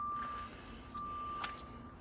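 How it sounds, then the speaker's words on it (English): A truck's reversing alarm beeps faintly in the distance, three or so evenly spaced tones over quiet outdoor background noise. "That beeping sound is louder than... You know, I think some of the trucks are actually louder than others."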